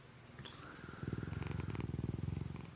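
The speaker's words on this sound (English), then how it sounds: "He's purring. You may hear him in the mic." A big fat cat purrs steadily while sitting on a lap, a close, rhythmic low rumble of pulsing breaths that grows louder after the first second and continues without speech.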